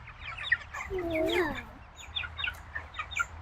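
Chickens cluck and chirp inside a backyard urban chicken tractor, a busy run of short calls with one louder rising squawk partway through, heard close while a person briefly talks over them.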